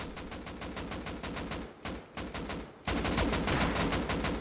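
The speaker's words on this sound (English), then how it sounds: "A few guys shooting from the base." Rapid automatic gunfire from a base in the survival game Rust, bursts of evenly spaced shots with a brief pause near the middle, then a louder, closer volley to the end.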